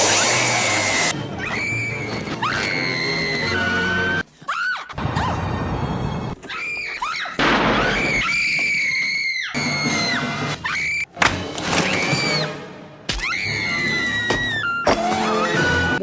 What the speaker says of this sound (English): let's just get her obnoxious screams out of the way